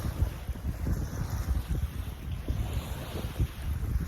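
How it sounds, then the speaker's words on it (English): Morning wind blows outdoors in Michigan, a steady low rumble with gusts buffeting the microphone throughout, and no other distinct sounds standing out. "wind activity."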